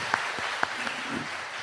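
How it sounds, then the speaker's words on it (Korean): A church congregation claps during an afternoon worship service, giving praise to God; a dense, moderately quiet wash of many hands with a few sharper claps standing out near the start. "우리 다시 한번 하나님께 영광의 박수 올리겠습니다"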